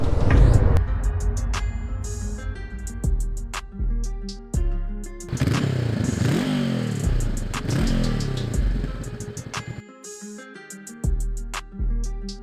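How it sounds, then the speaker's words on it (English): A 2024 Honda NX500 middleweight adventure motorcycle engine runs and revs through gear changes while riding, loud and close, with rising and falling pitch sweeps and brief drops between pulls, mixed with some background music. "I'm on the epic little NX500 from Honda."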